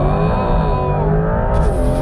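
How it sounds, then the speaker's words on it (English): Porsche 911 GTS accelerating hard from a launch on an empty road, the engine note rising steadily through the revs, loud and close from inside the car with no talking. "right foot on the accelerator, go!"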